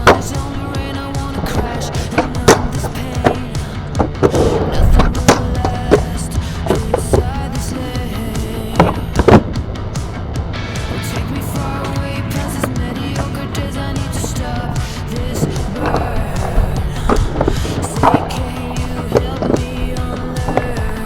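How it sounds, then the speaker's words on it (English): A surfskate fitted with a tail skid plate rolls and carves through tricks, producing continuous wheel rumble with repeated sharp clacks and scrapes of the tail hitting pavement, loud and close throughout. "I'm going to go ahead and show you some tricks that have been made a lot easier thanks to having a"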